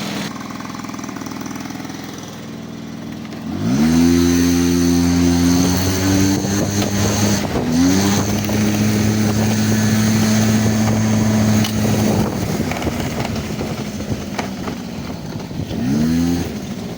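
Scooter engine revving up with a rising whine, then settling into a steady idle that holds with a low even drone, and a brief blip of throttle near the end; loud and close, no speech.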